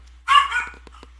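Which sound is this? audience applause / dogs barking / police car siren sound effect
dogs barking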